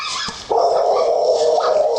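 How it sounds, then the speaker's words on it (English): Dogs in a backyard during an attack, a sharp yip followed by a sustained, strained whining cry that holds steady and close for over a second, with no speech. "Watch that dog here."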